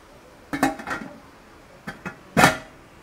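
A lid is set down on a cooking pot at an outdoor kitchen beside a fish cage in Prachinburi, Thailand, making a few close metallic clanks and rattles in three short bursts, the last one loudest.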